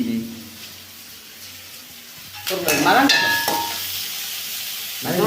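Onions and green chillies frying in a pan, with a low sizzle under stirring and scraping clatter that grows louder midway, plus a brief clink near the end.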